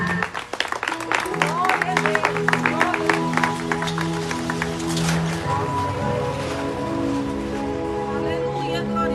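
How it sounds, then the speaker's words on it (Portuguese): A church congregation at an evangelistic service applauds, with scattered clapping that swells into sustained applause under a voice speaking over it. "Pode sentar aplaudindo ao Senhor Jesus"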